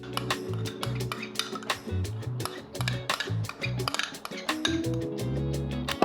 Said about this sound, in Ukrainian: І ретельно перемішуємо